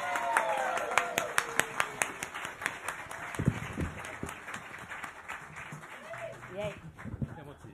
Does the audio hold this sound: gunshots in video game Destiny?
no